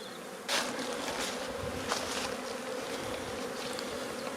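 Black honey bees hum steadily around a beehive on a cool, sunny day, a dense continuous buzzing close by with a few louder passes as individual bees fly near, no talk.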